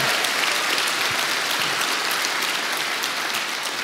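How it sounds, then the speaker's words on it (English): A big crowd at the EVE Fanfest 2018 closing ceremony applauds the tournament helpers with a loud, dense, continuous wash of clapping that holds steady for the full few seconds. "So another round of applause for them."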